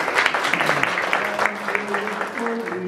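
Applause and clapping from guests greeting the arrival of a cake at a summer school celebration, steady clatter of hands running through, with a voice and faint singing tones underneath.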